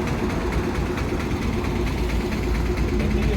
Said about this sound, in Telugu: దాని పక్కన వచ్చేసి హార్లీ డేవిడ్సన్ రోడ్ కింగ్. ఇది ఈగిల్ స్క్రీమ్ ఎగ్జాస్ట్ చూసి కదా, ఈగిల్ స్క్రీమ్ ఎగ్జాస్ట్.